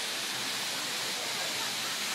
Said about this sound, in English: the waterfall isn't quite as big now as it is in the wintertime, but it's still beautiful and flowing pretty strong